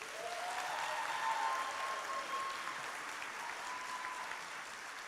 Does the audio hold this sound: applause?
yes